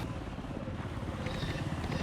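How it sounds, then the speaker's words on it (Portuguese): Helicopter overhead in a Portuguese-language shooter video game, a steady low rotor drone filling the short stretch at moderate level, with no talk heard. "O helicóptero."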